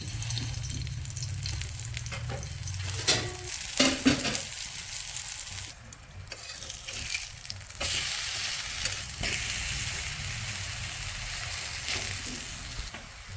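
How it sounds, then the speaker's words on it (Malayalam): Masala-coated pieces fry in a pan, giving a close, steady sizzle with intermittent scraping and stirring sounds and a few louder crackles, with no voices. "നമുക്കിത് ഓരോന്നായിട്ട് പൊരിച്ചെടുക്കാം"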